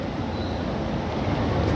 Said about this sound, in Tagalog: Oops, lakas ng hangin.